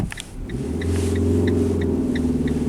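Car engine rising in revs as throttle is applied at half clutch during a driving lesson, a loud steady rumbling hum close by, with faint rhythmic ticking over it.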